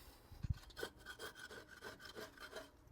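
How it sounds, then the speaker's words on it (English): Burned residue scraped off the grate of a Blaze Kamado grill after a 700°F clean burn, a quiet rhythmic rasping of repeated strokes after two sharp knocks. "let's scrape this off and see how it looks"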